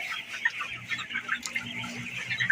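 A flock of broiler chickens clucks and chatters together, a dense, continuous murmur of clucks at moderate distance.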